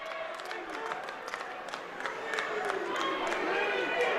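Arena crowd at a Michigan vs Minnesota college wrestling match, a dense continuous roar of cheering and shouting that swells louder toward the end, with scattered claps and sharp yells on top.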